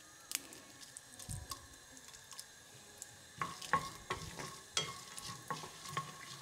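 Peanuts and chilies frying in oil in a pan, a soft continuous sizzle with scattered light crackles and stirring scrapes, quiet and close, growing busier partway through.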